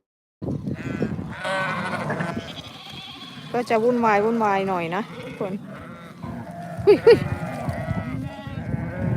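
Lambs and ewes on a sheep farm bleating repeatedly, several overlapping wavering calls near and loud, with someone talking between and over them.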